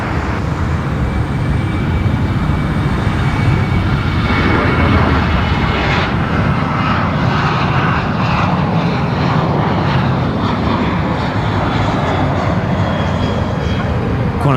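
A Qantas airliner on its takeoff roll at Brisbane Airport, its engines a loud, continuous broadband roar that holds steady throughout.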